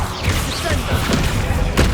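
Confringo, an explosive fire spell cast in the video game Hogwarts Legacy, bursts against a steady wash of game ambience, with a sharper, louder blast near the end of the short span.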